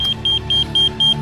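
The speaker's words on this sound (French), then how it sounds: "la balise, elle sonne" A race tracking beacon rings in a regular pattern of five short, high electronic beeps, evenly spaced and loud, over a low vehicle engine hum.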